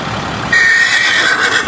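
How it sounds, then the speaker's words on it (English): A horse neighs loudly and close by, a shrill, wavering whinny that starts suddenly and holds for over a second, from a six-year-old black and white Tennessee Walker spotted saddle mare at a camp. "She's a 16-hand, black and white, 6-year-old spotted saddle horse named Honey."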